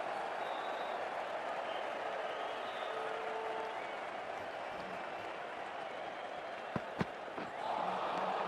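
Crowd noise in the cricket video game Cricket 24, a steady roar of a stadium audience with applause and cheering, fairly distant, broken by a couple of sharp cracks near the end.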